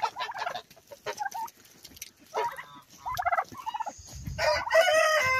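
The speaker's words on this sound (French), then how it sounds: "Voici les dindons, toujours les mêmes." Farm turkeys gobble and call in several bursts, with other fowl crowing and clucking among them, fairly close and rising in loudness toward the end.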